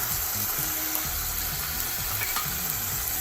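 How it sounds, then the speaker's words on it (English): Spices and lemon juice sizzle in a hot pan while being stirred, a steady close frying hiss with scraping stir strokes throughout. "I'm gonna stir it."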